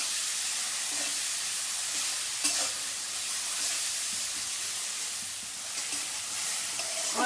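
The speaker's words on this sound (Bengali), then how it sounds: "আমি সবগুলো একসঙ্গে লাল করে একটু ভেজে নেব।" Turmeric and chopped tomato frying together in a pan, an even steam-like sizzling hiss running throughout with occasional soft stirring scrapes, close and unbroken by speech.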